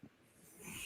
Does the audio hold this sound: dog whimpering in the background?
yes